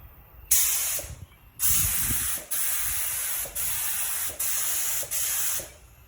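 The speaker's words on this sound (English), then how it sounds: "I had to up the pressure to about 40 psi on the gun, so now it's spraying pretty good." Paint spray gun spraying primer at about 40 psi, a sharp loud hiss in six bursts of roughly half a second to a second each, separated by brief pauses, with no voices.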